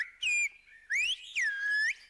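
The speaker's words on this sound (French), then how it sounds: "des enfants qui parlent une langue sifflée, qui s'appelle le silbo" Silbo Gomero, the Spanish-based whistled language of the Canary Islands once used by shepherds, whistled by children: three loud, clear whistled phrases with gliding, sliding pitch, separated by short pauses, with no talk.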